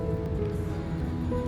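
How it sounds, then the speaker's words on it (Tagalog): Heavy rain falls outside as a dense, steady hiss of downpour, broad and continuous, with a faint low hum underneath. "sobrang lakas ng ulan"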